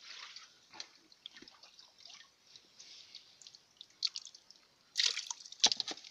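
Water splashes and drips into a basin, with small trickles and light patters through most of the stretch and two louder splashing bursts toward the end, fairly close.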